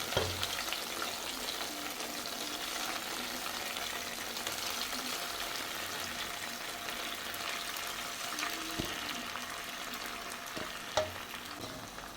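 Soft, continuous sizzling of squid frying in a pan, with a couple of faint clicks of a utensil near the end.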